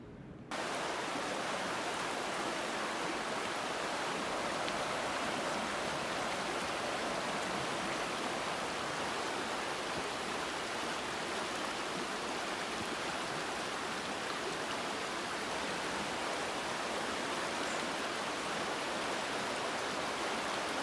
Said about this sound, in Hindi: आप ज़रा पानी की साउंड सुनिए और एंजॉय कीजिए